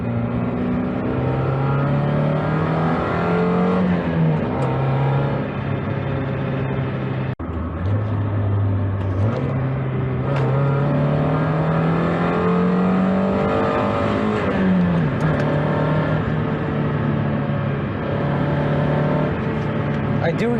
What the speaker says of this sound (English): There's just so much noise coming from over here. I think it's the exhaust leak.